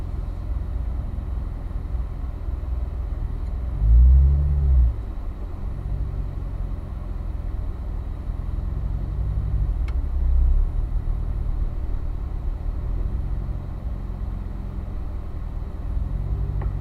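Cars run on the Spring Mountain racetrack during heel-toe downshifting practice, a steady low engine rumble throughout with two brief louder swells of a passing car near the start and middle.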